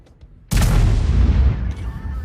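A tank cannon firing in World of Tanks from the T110E4 on the Airstrip map, one sudden loud close blast after a quiet moment, trailing into a long rumbling decay.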